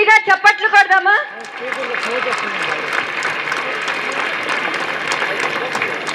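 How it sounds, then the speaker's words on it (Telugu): An audience at a school gathering applauds the students' parents. A voice speaks briefly, then loud, sustained clapping from a large crowd fills the rest. "పేరెంట్స్ అందరికీ మనం ఒక్కసారి గట్టిగా చప్పట్లు కొడదామా?"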